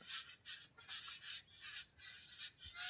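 A peacock and other birds call in short repeated squawking bursts about every half second, faint and distant, with no talking.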